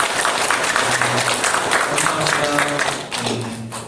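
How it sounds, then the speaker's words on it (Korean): Church congregation applauding to welcome a bereaved family at a Sunday morning service, a fairly close, steady clapping under a faint hum and murmur that dips and resumes near the end. "우리 박수로 환영합니다"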